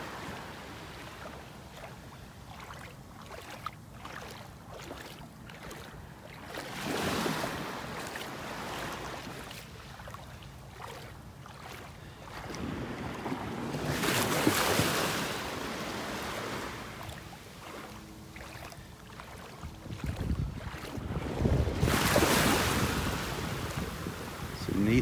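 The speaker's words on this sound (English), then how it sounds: "Listening to those waves, so relaxing." Ocean waves on a Gulf beach at Delnor-Wiggins, swelling surges washing ashore every several seconds over steady wind rumble, with no talking.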